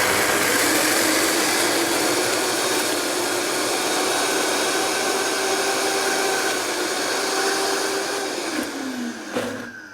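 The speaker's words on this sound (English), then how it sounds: "So we're gonna blend this till it gets smooth." A blender whirs steadily at high speed while blending a raw vegan alfredo sauce, a loud continuous motor drone that holds for about nine seconds before spinning down.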